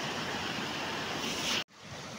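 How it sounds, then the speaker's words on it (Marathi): Heavy rain pours over a river, a dense, steady hiss of broadband noise that holds loud and even, then cuts out abruptly near the end before resuming more quietly. "तर बघा किती पाऊस आहे आज"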